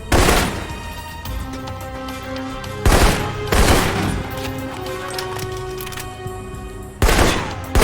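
Assault rifle fire in the video game Alpha Protocol: loud close bursts at irregular intervals, with a ringing tonal game backdrop between the volleys.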